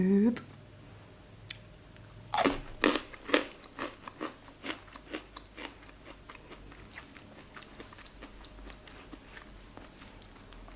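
Crunchy vegan chocolate bar bitten with a sharp crack, then chewed in a run of crisp, close crunches that fade over several seconds.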